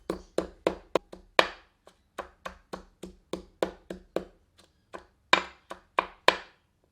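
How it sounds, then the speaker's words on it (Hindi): Garlic and green chillies are pounded coarsely in a mortar for a spicy goat curry, giving a steady run of sharp, close thuds, about two or three per second with brief pauses, and no talk. "और अंत में हरी मिर्चों को डालकर सबके साथ कूट लेते हैं।"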